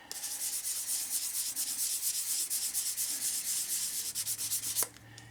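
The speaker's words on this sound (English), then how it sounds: "I'm just gonna start with sandpaper, or a sanding block" Rhythmic scratchy rubbing of sandpaper on a block, steady strokes back and forth close up, ending abruptly with a light knock.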